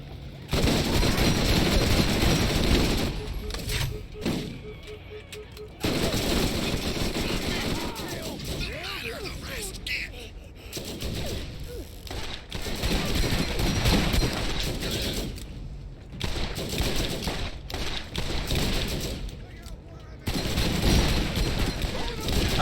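Rapid, sustained fire from a Burning Stinger high fire-rate gun in the video game Borderlands, a dense and continuous rattle with loud bursts, layered with other game noise and some talking.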